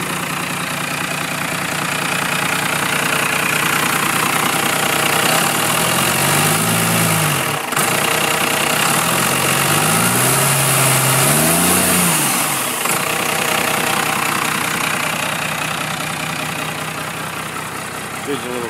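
A cold 12 valve Cummins diesel in a Ford F350 runs through a 4-inch straight pipe exhaust, idling with a loud, gravelly rumble and a few brief revs rising and falling, heard up close.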